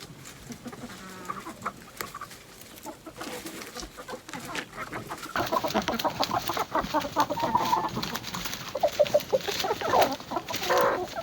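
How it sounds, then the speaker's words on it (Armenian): Hens cluck and chatter as they peck at green grass, starting sparse and soft, then growing busier and louder with overlapping calls from several birds nearby. "երբ որ հավերս սկսում են, խրթխրթալ են, կանաչ խոտը ուտել"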